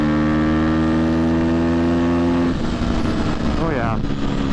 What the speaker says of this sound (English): So we'll do a little high power mode, brap action, quick shifter.